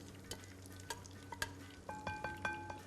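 Cooked vegetables are stirred into a wide bowl for a chicken nugget pasta, giving quiet, close utensil clinks against the dish in a steady series, faint under a low background hum, no voices.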